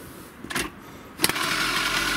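A restored TOMOS moped with the choke pulled catches after a brief sputter, then settles into a steady, close engine idle.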